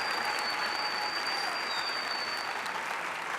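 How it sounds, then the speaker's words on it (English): A large audience at an evening student celebration event applauds steadily and warmly throughout, a dense even wash of clapping with no talk over it. "Let's give our speakers and performances another round of applause."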